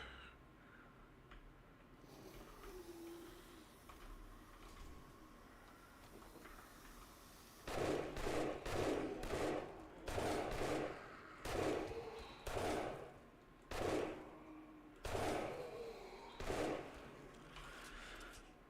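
Bursts of gunfire in the zombie survival game 7 Days to Die, loud rapid volleys of repeated shots in several clusters after a quieter stretch of game ambience.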